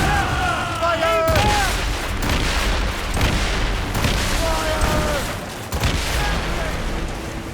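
Ship cannons fire during a naval battle in Assassin's Creed Rogue: heavy booming blasts and a dense roar of battle noise, loud and close, with crew voices shouting orders over the din.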